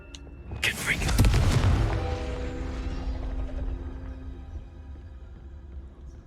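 A Confringo spell explosion in a video game lands as one heavy, close boom about a second in, then a long rumbling decay that fades over several seconds while voices talk over it.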